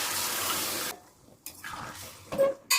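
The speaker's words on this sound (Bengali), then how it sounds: "গরম করে জলটা দিচ্ছি।" Heated water poured into a Bengali rohu fish curry with poppy leaves (pui shak) makes a loud, steady splashing pour that breaks off, followed by a few shorter splashes and clinks, with no talk.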